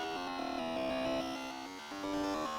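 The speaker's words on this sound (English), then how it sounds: "It's some 1990s dial-up music. It's nothing but garbage noise." A phone call in the Deltarune video game produces a garbled dial-up noise: layered electronic tones that warble and step between pitches in a continuous, moderately loud stream, with no speech.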